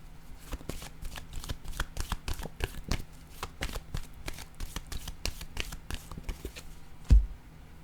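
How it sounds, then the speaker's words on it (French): Playing cards are shuffled and drawn by hand in a sequence of quick, crisp riffling snaps and soft slaps, close and quiet, ending in one sharper tap, with no talking. "Je vais piger une autre carte."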